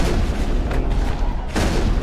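Shotgun blasts in the Mass Effect video game, loud and close, a burst of heavy booming shots in quick succession filling the moment with no talk.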